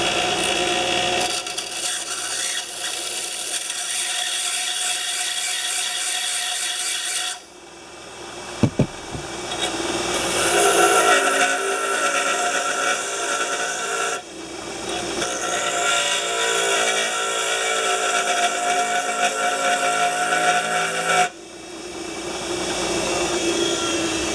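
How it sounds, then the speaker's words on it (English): A bench grinder stone being dressed and squared to clear embedded aluminum, giving a loud, steady abrasive grinding roar that runs nearly continuously, broken by a few brief pauses and a sharp clatter partway through. "get the aluminum and stuff out of the stone, and then I'm just going to square it up, eyeball. This should make some dust."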